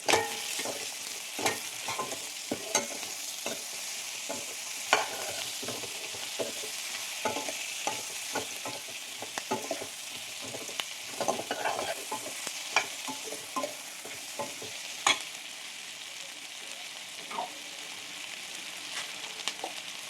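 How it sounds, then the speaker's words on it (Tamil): Onions sauté in hot ghee in a pan, with a soft steady sizzle and frequent crisp scraping stirs at an irregular rhythm, close and fairly quiet with no voices. "அதாவது வெங்காயம்லாம் பாதி வதங்கினா போதும்"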